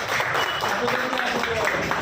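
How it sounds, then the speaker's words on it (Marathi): Dense, steady audience clapping at a community gathering fills the whole stretch at even loudness, with a few voices mixed into the crowd noise. "जोरदार टाळ्या का द्या सगळ्यासाठी"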